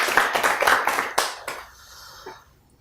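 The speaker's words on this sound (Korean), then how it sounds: "두 분의 빠른 쾌유와 또 하나님의 돌보심을 위한 경애의 박수를 한번 부탁드립니다" A church congregation gives a short burst of clapping, a few seconds of fairly close, uneven hand claps that quickly die away into quiet.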